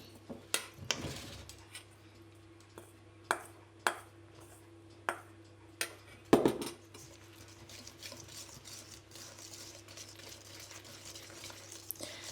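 Baking powder and salt are mixed into flour in a bowl for petit fours cookies, a series of light, sharp clinks of a utensil against the bowl followed by faint, soft stirring in a quiet room.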